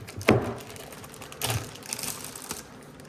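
A Paladin MKII light bar is being unwrapped: a few crisp rustles and taps of packaging, one sharp crackle near the start and softer handling after, close and quiet with no talk.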